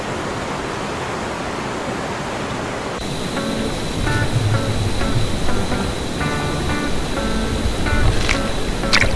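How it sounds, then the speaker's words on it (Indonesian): Timponan waterfall roars in a constant, full rushing wash of water, loud and unbroken throughout. "Debit air yang besar membuat saya ingin segera mandi di air terjun ini."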